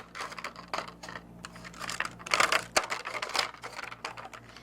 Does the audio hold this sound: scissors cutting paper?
yes